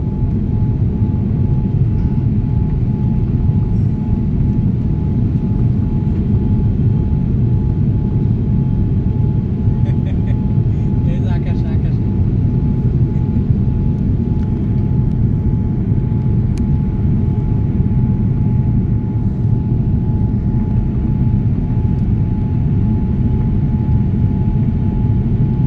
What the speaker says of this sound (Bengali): এত শত শত যাত্রী নিয়ে উপরে উঠে গেল বিমানটা